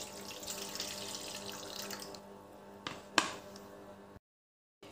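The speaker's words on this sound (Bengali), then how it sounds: "এবারে যে সাদা জলটা ফেলে দেবো এর মধ্যে।" Milky white rinse water from flour dough being washed for moyda paneer is poured away, a soft running, splashing pour into a sink that fades, followed by a couple of small knocks before silence.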